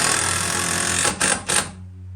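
A power driver sinks screws into a 2x4 workbench frame with a loud, steady motor whir, which briefly cuts out twice and then stops near the end, close by.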